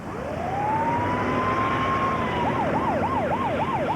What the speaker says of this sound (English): When the ambulance left with Bill in the back